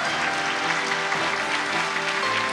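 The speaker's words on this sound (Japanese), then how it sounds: "鈴木様、松永監督、宮沢様へ今一度盛大な拍手をお送りください。" Steady, close applause from an audience at a film award ceremony, continuous dense clapping throughout with no talk over it.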